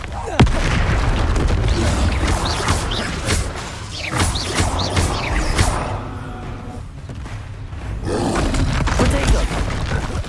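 Booming blasts from the Bombarda explosion spell in the Hogwarts Legacy video game roar and crash through loud game action, with rushing whooshes and voices calling out spells between the impacts.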